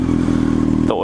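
Motorcycle engine cranking over and catching into a loud, close, pulsing idle with a steady throbbing rhythm, ending in a brief clatter.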